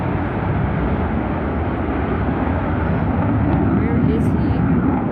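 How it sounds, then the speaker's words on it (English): Steady, loud broadband roar of a military jet flying over San Diego Harbor, heard from Shelter Island as continuous rumbling engine noise with wind, and no clear speech on top. "that's a military plane"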